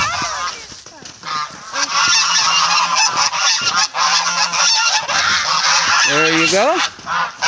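Loud geese honking close by, a noisy flock calling over one another continuously, with a few brief words spoken among the calls.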